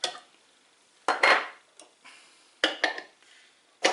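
Snail butter mixture is scraped and spooned back into a blender jar, making sharp clinks and clatters of utensil against container in several separate bursts with quiet gaps between.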